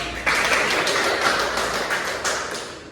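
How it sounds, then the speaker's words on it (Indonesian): Classroom applause for a student during a micro-teaching lesson, a steady patter of many hands clapping close by, starting sharply and continuing evenly for a few seconds with a brief renewed burst near the end. "Oke, kita beri aplaus untuk"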